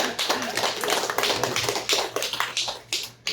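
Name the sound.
congregation clapping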